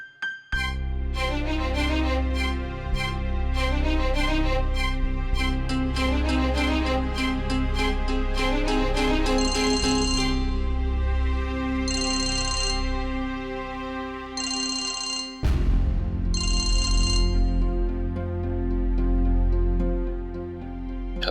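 A melodic phone ringtone plays loudly and continuously in a Hindi TV drama scene, with repeating musical notes and brief chime bursts, alone without talk.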